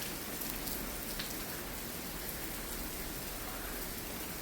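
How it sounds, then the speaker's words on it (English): Steady rain falls on a cloudy morning at the Grand Floridian resort, a constant dense hiss of drops on surfaces with no breaks, moderately loud throughout. "It's just raining."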